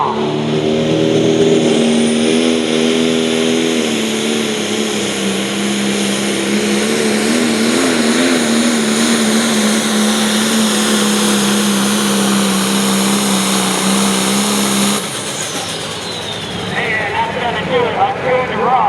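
A 1954 International 88 tractor roars at full power during a truck and tractor pull in Coshocton, Ohio, its loud sustained engine drone holding steady before dropping off sharply near the end, with an announcer talking over it.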